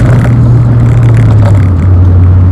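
A Rover 416 GTi engine revs hard toward 7,000 RPM, a loud, steady high-pitched drone held throughout with a low rumbling undertone, close and continuous with no talk.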